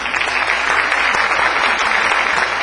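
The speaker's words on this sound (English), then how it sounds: "Give him a round of applause." Applause from an audience at a Santa Barbara Public Works Jeopardy event, steady dense clapping filling the whole stretch with no talk over it.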